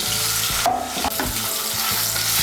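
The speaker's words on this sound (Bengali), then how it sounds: "এই তেলের মধ্যে আমি আলুগুলো ভেজে নিচ্ছি।" Boiled potato pieces coated in salt and turmeric fry in hot oil, giving a continuous loud sizzle broken by a few scraping stirs and clinks of a utensil against the pan, with no voices.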